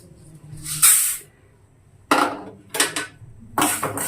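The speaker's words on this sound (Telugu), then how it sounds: "ఇప్పుడు దీంట్లోనే మెంతులు కూడా వేసుకుందాం" Fenugreek seeds dropped into hot oil in a pan for small-piece avakaya mango pickle, crackling in several loud, separate bursts of sizzle and spoon clatter with quiet gaps between.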